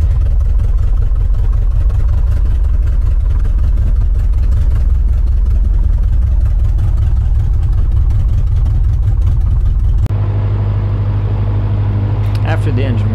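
A light aircraft's piston engine idles loudly and steadily in cold weather with a low throbbing drone, then its pitch shifts near the end as the revs change.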